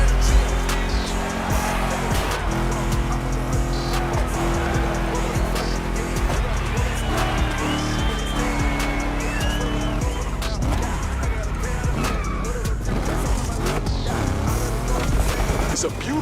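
Car engines rev and race in the video game The Crew Motorfest, set in Oahu, Hawaii, with sustained engine drones, pitch sweeps and tire noise under game voices and music.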